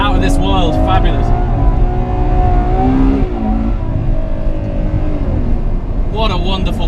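A Ferrari 812 Superfast's engine revs loud and close, its pitch climbing and falling through repeated swells, with a steady high whir layered on top.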